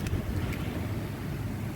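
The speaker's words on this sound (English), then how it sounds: "It's a little windy, so I'm trying to make sure that this tent doesn't blow my camera over" Outdoor wind buffets the microphone beside a tent in a steady, close, low rumbling roar that continues without a break.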